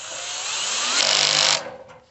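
Close, loud power drill whirring steadily as it drives bolts into a Yaheetech fire pit table, with a brief surge in pitch before the motor winds down and stops.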